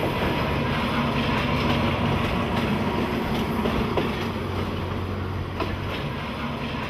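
A train bound for the airport in Thailand rumbles steadily along the rails, a continuous low roar with faint rhythmic clacks, heard from inside.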